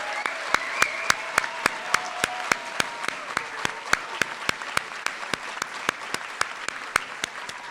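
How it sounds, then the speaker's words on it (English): Applause from a school audience at a senior awards night, a steady bed of clapping with a few sharp, close handclaps cracking out regularly in the foreground. "let's have a big round of applause for all the award winners."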